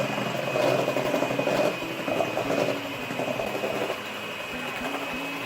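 An electric mixer beating egg whites for a meringue in a bowl gives a steady, close motor whine that shifts slightly in pitch as the beaters move, with no talk over it.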